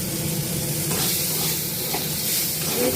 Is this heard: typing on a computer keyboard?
no